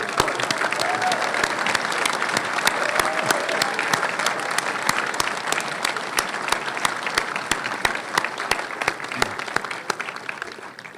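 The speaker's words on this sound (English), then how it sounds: "Let's give them a round of applause." Sustained applause at a spring electrical and computer engineering graduation, as family members and friends of the graduates stand; a large crowd claps steadily, with a few sharp individual claps standing out near the front throughout.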